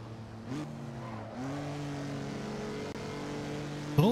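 A Jaguar XK120 race car engine drones steadily in the Assetto Corsa racing game, holding a low sustained note with shifts in pitch and a sharp rev rise at the end, with no talking.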